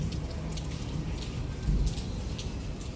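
Heavy rain falls in a steady, dense wash of drops, a continuous hiss heard from indoors, moderately loud with no talk.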